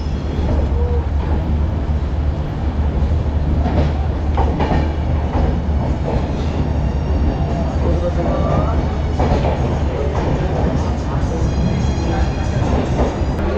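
LHB coach train, the Black Diamond Express, pulling into Dhanbad Junction: a steady loud rumble of rolling coaches with wheel clatter and faint squeals, continuous throughout, with voices in the background.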